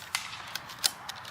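Sharp pneumatic cracks from an Umarex Notos G2 regulated air rifle, five evenly spaced shots fired in quick succession, each a brief crisp report with no talking.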